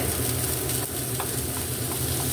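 Ginger sautés with garlic in a pan for a saucy Filipino shrimp dish, giving a dense, steady sizzle that stays loud and unbroken throughout, with no one speaking.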